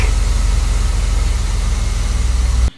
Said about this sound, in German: Motor läuft butterweich, so wie es sein sollte.